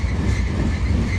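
A Union Pacific freight train diverges onto the Palmdale cutoff, a steady, loud low rumble of rolling cars and wheels on rail, close by and continuous with no voices.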